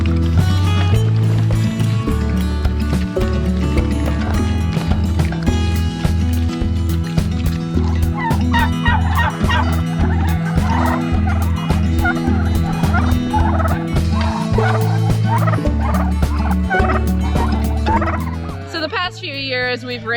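Farm turkeys gobble loudly and almost without pause, a dense chorus of repeated gobbles from a close flock that fades slightly near the end.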